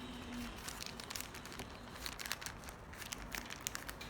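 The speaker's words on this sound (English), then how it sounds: "Next, place them into a container or Ziploc bag." A plastic Ziploc bag crinkling faintly while peeled sweet potatoes go into it, soft irregular rustles and crackles at low level, no talk.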